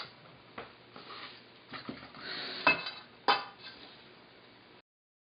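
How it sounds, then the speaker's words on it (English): Mixing bowls swapped on a kitchen counter while sifting flour for bizcochitos, soft rustles followed by a few sharp clinks and knocks of bowls set down, close and fairly quiet. "I'm just going to switch bowls."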